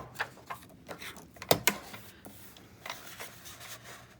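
A paper trimmer slices a 6x6 sheet of paper down to size for a 3.5 inch tag: soft sliding and clicking mechanism sounds, with a sharp louder snap of the blade midway, close and alone.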